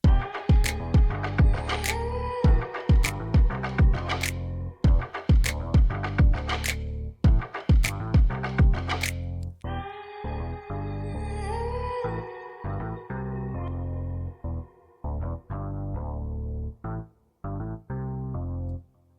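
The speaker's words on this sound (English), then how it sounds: "I loaded up a basic bass patch" A basic funky bass synth patch plays a rhythmic groove of short punchy notes, deep and loud, repeating in a steady pattern with a few sustained tones.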